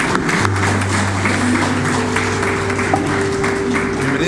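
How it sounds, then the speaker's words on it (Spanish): A church congregation claps during a Sunday service, continuous applause mixed with crowd murmur and a sustained organ or keyboard note beneath. "Damos un aplauso a nuestro Señor."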